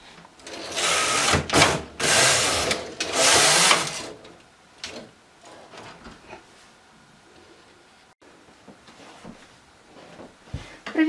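A domestic knitting machine carriage sweeps back and forth while knitting a round cardigan's hood, giving three loud, rasping passes in the opening seconds, then quieter clicks and small mechanical handling noises, with no talk.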